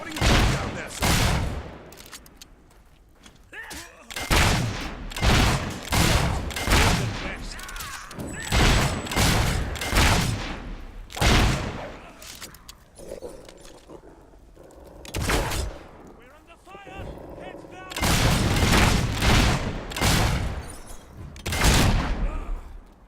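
Heavy gunfire in the video game Fable III on hard difficulty: repeated volleys of rapid shots boom out in clusters over about twenty seconds, with short quieter gaps between bursts.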